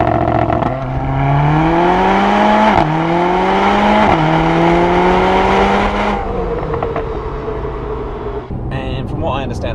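A Mercedes-AMG A45 accelerating hard from a launch-control start, its engine note climbing through several gear changes with brief dips between them, loud and close, then settling into steady cruising roar.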